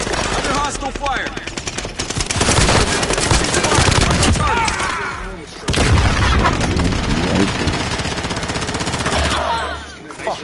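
Rapid automatic gunfire in Call of Duty Warzone, loud and sustained bursts of machine-gun fire with booming impacts, pausing briefly before another heavy volley continues.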